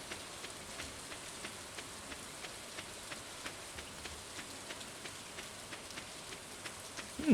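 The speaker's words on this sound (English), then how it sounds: "during the rain you can only hear like the weather and not any music playing" Steady rain falls in the farming video game Stardew Valley, a soft even patter with frequent light drop ticks and no music, running continuously throughout.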